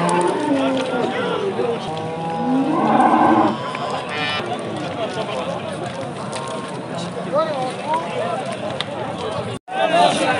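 Cattle moo at a bustling livestock market selling cows with calves at the Pakhtaobod bazaar in Regar, with a drawn-out moo near the start under constant crowd chatter and nearby talking.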